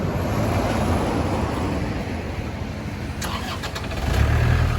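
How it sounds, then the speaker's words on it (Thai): An Iseki NT554 tractor engine starts up and idles as a steady diesel rumble, heavy broadband noise throughout with a few clicks and a louder low surge near the end. "เครื่องนิ่มๆ ติดง่ายๆ ครับผม"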